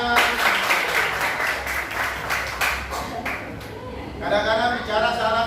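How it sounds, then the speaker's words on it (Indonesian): A classroom of students claps together in a brisk burst of applause, with voices and a little laughter mixed in, fading slightly midway before picking up again. "tepuk tangan"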